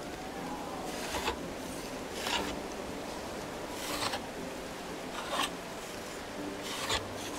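A saw works through wood in Medieval Dynasty, making repeated rasping strokes at a steady rhythm of roughly one per second over a noisy background, with no speech.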